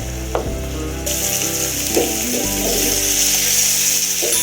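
Raw banana slices fry in a pan over low heat for a Tamil-style poriyal, giving a steady, close sizzle that continues throughout, with a few scraping stir sounds mixed in.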